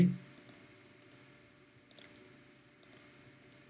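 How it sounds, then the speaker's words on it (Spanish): Computer mouse buttons clicking during design work in Adobe XD: about a dozen short, sharp clicks, some in quick pairs, close and clear over a quiet background. "Entonces voy a darle clic derecho"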